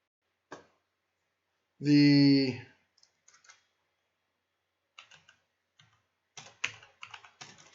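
Typing on a computer keyboard, sparse clicks at first and then faster bursts of close keystrokes, with a brief spoken remark early on.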